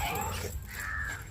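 A dog barks in a short, loud burst during a fight between a dog and a cat, with harsh, raspy calls close by.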